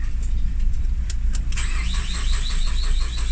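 A Ford Focus engine cranks without starting: a loud, close, continuous starter churn with a rapid rhythmic whine that becomes more pronounced partway through.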